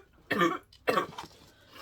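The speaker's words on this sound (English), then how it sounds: "She's not been sleeping hardly at all because of this cough" A little girl gives two short, close, wet coughs in a quiet room, separated by a brief pause, followed by a faint trailing breath.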